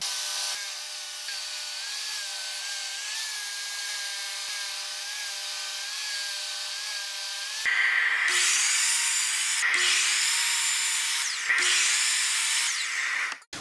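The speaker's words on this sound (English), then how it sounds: "going back over to the table saw to cut up some more 3/4 inch plywood" A table saw runs steadily while cutting sheets of 3/4 inch plywood, its whine holding for several seconds before growing louder and brighter, with a few short pauses as the panel feeds through.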